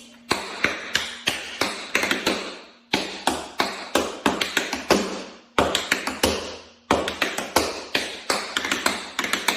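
Tap shoes on a hard floor strike a step, shuffle, ball change and double pull back, the combination repeated four times in crisp, evenly spaced bursts of close, loud clicks with short pauses between, no talking.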